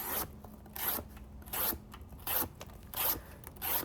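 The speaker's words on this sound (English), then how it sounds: "So this thing's slicing like crazy. This is just regular thickness cardboard." Knife with a very thin hollow grind, an AD20.5, slicing through regular-thickness cardboard: six close, raspy cuts in a steady rhythm, each a short hissing zip with brief pauses between, and no talking.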